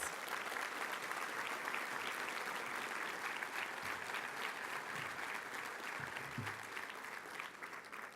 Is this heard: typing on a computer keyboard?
no